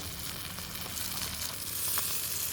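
Venison chili with mixed beans, diced tomatoes and tomato sauce bubbles in a pot, giving a steady, soft sizzle and crackle, faint and close with no voices.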